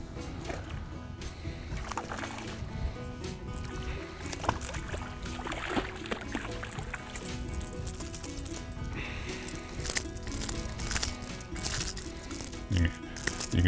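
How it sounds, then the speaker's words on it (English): MR-22 fishing lure with sonic rattles shaking as a hooked fish thrashes beside a boat, a faint continuous clicking rattle mixed with water splashes and handling noise, close and quiet, no speech. "You can hear those sonic rattles."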